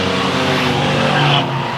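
Race cars roar together in a loud, sustained engine drone on the oval at the start of a Susquehanna-style short-track race, with a brief tire skid near the end and no talking.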